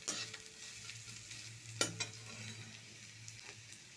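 Carrots and vegetables are stirred in a frying pan for veg noodles: soft, close scraping strokes over a quiet sizzle, with one sharp utensil clink partway through.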